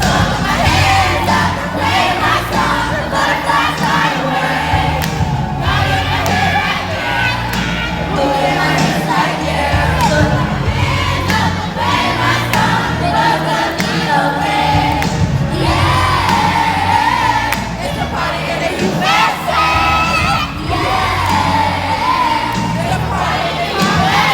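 A large crowd cheers and shouts continuously at a child's stage singing and dancing show, the roar loud and sustained over music throughout.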